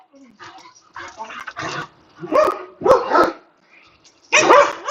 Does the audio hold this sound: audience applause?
no